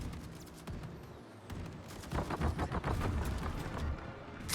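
Enemy warships in World of Warships fire blindly into smoke, first as a muffled rumble, then as a loud cluster of rapid shell impacts and booms.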